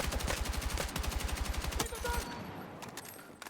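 Rapid bursts of MP7 submachine gun fire in a video game, loud and close, with tight repeating shots in quick strings that stop and restart, then thin out into scattered distant shots.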